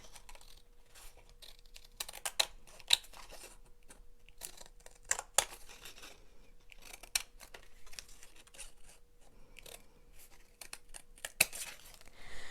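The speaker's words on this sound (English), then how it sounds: "I need my bigger scissors for this one." Quiet, sparse snips and rustles of scissors cutting paper, irregular clicks and crisp cuts scattered through a near-silent room.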